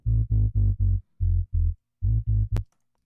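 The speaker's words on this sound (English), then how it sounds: "we're just going to put a little bit of distortion on that sub" Heavy, distorted synth sub bass plays short repeated notes in a punchy rhythm, with brief gaps between phrases and no voices.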